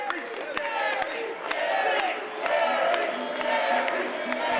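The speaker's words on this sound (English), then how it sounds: "Crowd chant, solidly chanting for Gary J." Wrestling fans at an indie show in the Scottish Rite Temple, Kansas City, chant steadily for a wrestler, a dense, continuous crowd roar with rhythmic shouted pulses and sharp claps throughout.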